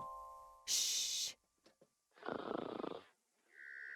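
A character in the video game Book of Unwritten Tales 2 gives one drawn-out, rasping snore, set between bright chime-like game sound effects.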